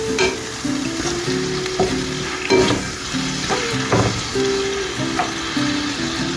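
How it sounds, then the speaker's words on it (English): Green seasoning sautéing in a pan before chickpeas are added, a close, lively sizzle with spoon scrapes and clinks as it is stirred at an uneven pace. "That's the green seasoning right there. So I'm gonna saute them before I put the chickpeas."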